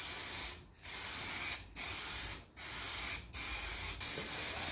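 Aerosol cans of red spray paint hissing steadily onto a Chrysler Valiant during a rebuild, four long close bursts separated by brief pauses, no voices.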